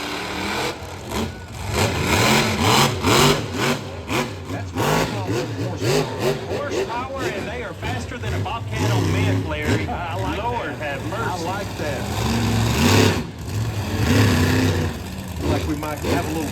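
Monster truck engines rev and rumble in repeated surges, loud and close, with people talking over them.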